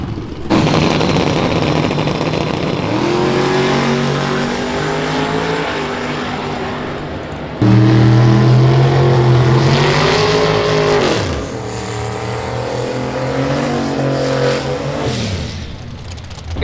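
Drag racing cars revving and accelerating hard down a track at a Streetcar Takeover event in Charlotte, loud and sustained roaring engines rising in pitch, with a second car launching partway through, heard from the stands.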